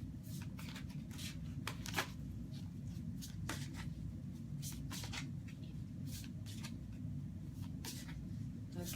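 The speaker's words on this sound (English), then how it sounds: "now we are going to pull a card for Sarah" Tarot cards being shuffled and pulled from a deck, a soft, continuous flutter of card riffles and slides close by, with brief snaps scattered through a steady low background hum.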